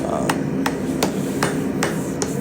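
A hammer strikes a spatula's handle socket on a swage block in a forge, six sharp metallic blows at a steady, unhurried rhythm over a constant background hum.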